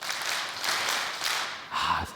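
A church congregation claps together in the 2002 World Cup 'Daehan Minguk' rhythm, a dense, fairly loud wash of hands with pulsing bursts across the whole stretch and a brief voice near the end.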